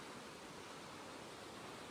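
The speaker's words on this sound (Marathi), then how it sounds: "बघू शकताय नदीला पण अजून खूप पाणी चालू आहे" A river runs with strong, high water, giving a steady, even rush of broadband noise that stays unbroken and fairly faint for the whole stretch, with no voices.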